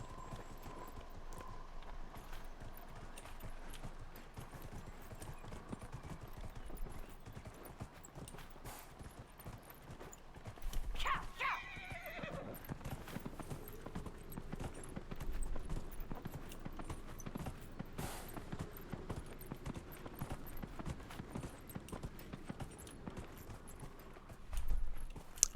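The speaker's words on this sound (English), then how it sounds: "I hear horses." Hooves clip-clopping in Dragon Age Inquisition, a steady rhythmic patter of horses moving at a moderate distance, with a short neigh-like cry partway through and faint ambience around it.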